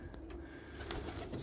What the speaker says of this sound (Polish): To są wszystkie moje gołębie.